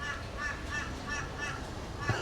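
A crow gives an odd, laugh-like call near a patisserie in Taigum, Queensland, a rhythmic series of about six short caws spaced evenly over two seconds, moderately loud above a noisy outdoor background.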